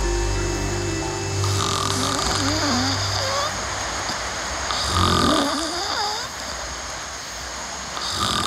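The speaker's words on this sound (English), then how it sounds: "my snoring in this situation is a huge issue." A person snores while sleeping outdoors during a survival trip in Panama, with loud, rhythmic rasping breaths set against a constant wash of water-like, surf-like background noise.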